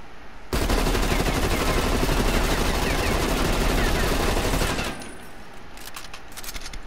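An M4 rifle in Black Ops Cold War firing one long, loud, unbroken automatic burst for about four seconds, then cutting off to quieter ambient sound.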